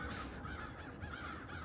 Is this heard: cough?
no